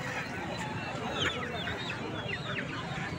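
Native country chickens clucking and squawking amid the busy hubbub of a poultry market in Vadalur, several birds calling over constant crowd murmur and people talking nearby.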